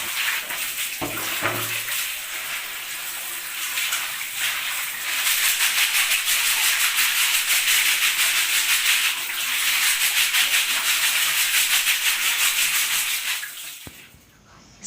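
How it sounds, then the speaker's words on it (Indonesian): Freshwater snails (Filopaludina javanica) are scrubbed clean in water, giving a steady, close rubbing and swishing wash that runs for several seconds before stopping abruptly. "Kemudian dicuci sampai bersih agar kotorannya terbuang."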